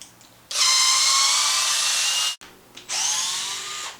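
A power driver whines loudly in two sustained bursts, backing screw pins out of an aluminum steering knuckle on a Traxxas Maxx RC truck, close by with a short pause between runs.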